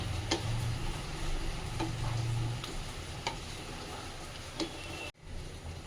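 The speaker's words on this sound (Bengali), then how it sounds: "এবার আমি এটা দিয়ে দিলাম দিয়ে ভালো করে নেড়ে দিচ্ছি" Fried onions being stirred into a Bengali chicken kosha curry produce a soft sizzle with regular scraping spoon strokes against the pan, close and quiet, with no talking.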